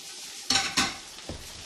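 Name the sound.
pelmeni dumplings frying in a pan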